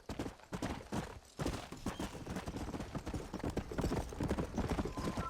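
Horse hooves clip-clop in Red Dead Redemption at a quick, even galloping rhythm. The sound is loud and continuous and carries no speech.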